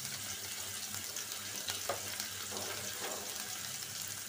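Onions frying in a little oil over lowered heat, for a fish-head and gourd curry: a steady soft sizzle with a few faint stirring scrapes midway, over a low hum, no talk.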